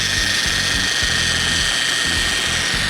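A polishing machine running at speed 3, a steady mechanical whir with a rapid ratcheting, gear-like texture that stays loud and even throughout with no talk.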